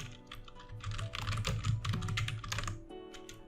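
Rapid, steady typing on a computer keyboard, a dense run of close, crisp key clicks lasting about three seconds with no speech.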